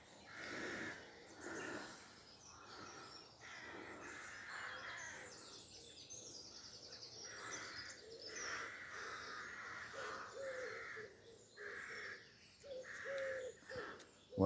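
Rooks calling at 5am near Pulford, Chester, in Cheshire: repeated harsh caws from several birds, some overlapping, at a moderate distance in open air, with no talking.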